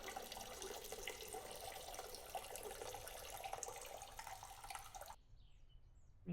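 A game character urinates into a toilet in the horror game Caretaker, giving a steady splashing trickle of water at close range for about five seconds before it abruptly stops and leaves a faint quiet room.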